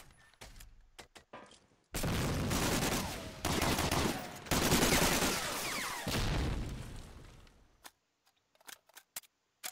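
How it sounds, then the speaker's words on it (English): Gunfire in Medal of Honor: Allied Assault during a team match, with dense sustained bursts of automatic fire from about two to eight seconds, preceded and followed by scattered sharp single shots. "Bullets being fired."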